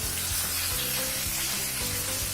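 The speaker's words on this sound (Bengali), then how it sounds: "এবার আমরা আগে থেকে ভেজে রাখা ওই পটলগুলোকে সর্ষের মধ্যে অ্যাড করে দিচ্ছি" Fried pointed gourd pieces dropped into hot mustard paste in a pan, producing a loud, dense, continuous sizzle with faint stirring underneath.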